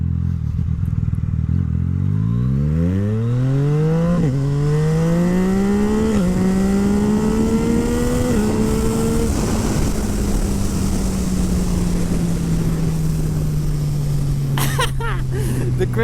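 Yamaha MT-09 naked motorcycle with a full Akrapovic exhaust revving hard through the gears on a quick shifter while lifting into a wheelie, the engine note climbing in pitch with clean shift breaks, then holding a steady drone, loud and close with wind noise.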